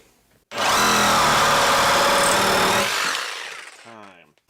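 A Kobalt power hacksaw cuts through wood under heavy load, a loud continuous buzzing rasp that runs steadily for about two and a half seconds, then winds down as the motor coasts to a stop.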